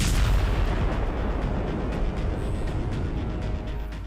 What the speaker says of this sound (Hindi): दिन के उजाले में लेबनान पर गिरी इजराइल की मिसाइल